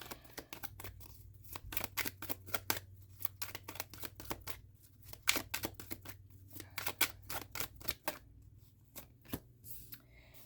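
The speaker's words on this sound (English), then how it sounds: "these cards are so super stiff, very difficult to shuffle. Or I should say bridge shuffle." Stiff tarot cards being bridge shuffled, giving rapid bursts of crisp riffling clicks and snaps in several rounds, close and fairly quiet, with no talk over them.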